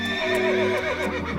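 A horse neighs loudly and close by in a long, shaky whinny that fades at the end, with a few soft hoof clops, set in a storybook tale about a knight riding through a forest.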